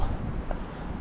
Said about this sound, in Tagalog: May lakas ng hangin.